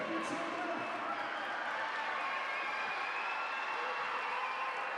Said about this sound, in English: So I guess we just stand and golf clap